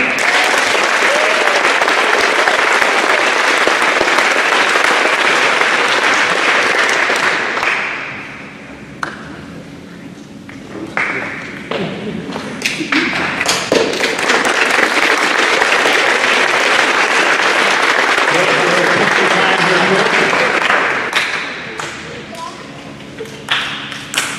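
An audience at a middle school awards ceremony applauds in two long bursts of clapping with a quieter gap between them, dense and close, and a voice speaks briefly during the lull.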